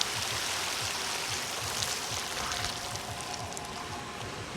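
A lightweight bicycle rides through standing water that is only ankle-deep, giving a steady, close rushing splash with a faint rhythmic churning from the wheels. There is no talking.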